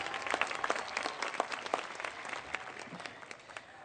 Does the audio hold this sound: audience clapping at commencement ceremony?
yes